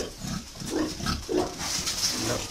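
Wild boar pigs grunt and squeal repeatedly, close by and loud, as they are caught and handled on a farm.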